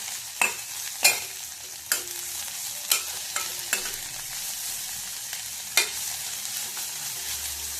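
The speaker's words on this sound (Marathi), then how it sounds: "आणि यामध्ये आपण चवीनुसार मीठ घालणार आहोत. छान परतून घ्यायचं आहे आपल्याला." Chawli (black-eyed pea) greens sautéing with salt in a pan, a steady close sizzle broken by sharp spatula scrapes and stirring knocks every second or so, with no voices.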